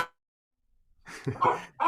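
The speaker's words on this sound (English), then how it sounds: "So if the dogs are barking" A dog lets out a few short barks close by, one clipped burst at the start and then a cluster of yips after a pause of silence, with nothing else heard around them.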